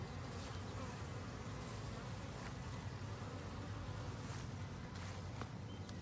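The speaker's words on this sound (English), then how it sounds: "You can see the bees flying around." Honey bees buzzing in a dense, steady drone as a package of bees is installed into a hive, with faint clicks and taps close by and no talking.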